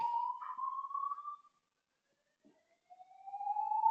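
A building fire alarm test sounds faint and distant as a steady rising electronic tone. It cuts out for over a second, then returns.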